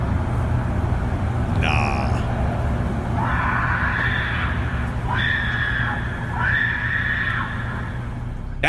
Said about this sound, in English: he linked to a recording of what sounded like a person screaming at the top of their lungs